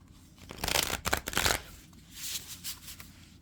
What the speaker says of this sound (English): Let me pull a few of these cards and see what comes out.